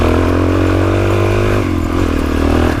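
A motorcycle on a muddy forest trail in Bald Eagle State Forest, its engine loud and close with a steady throttled drone that shifts in pitch midway, alone without talk.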